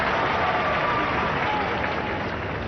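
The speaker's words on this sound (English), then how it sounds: "And the crowd respond" A crowd at a 2003 TVS Cup one-day cricket match between Australia and New Zealand in Pune applauds, a steady dense wash of distant clapping that holds level throughout with a commentator's voice faintly underneath.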